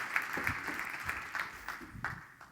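An audience applauds a conference speaker, Rand Fishkin, as he is introduced, with steady, fairly faint crowd clapping running throughout and a few sharper claps standing out.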